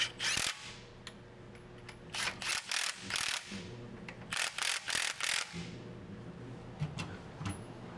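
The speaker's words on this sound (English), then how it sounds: "we'll just tighten up a few more bolts here" A ratchet tightens bolts on the rear sway bar of a TRD Pro truck. Close, clicking bursts repeat in quick runs with short pauses between them. No one talks.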